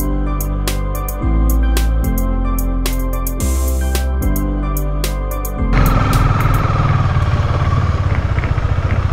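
A motorcycle on a ride in West Sikkim near Rinchenpong runs loud and close, the engine note stepping up and down through several revs before settling into a rougher, steady rumble.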